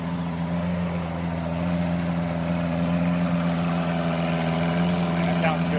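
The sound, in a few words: Lamborghini Aventador engine idling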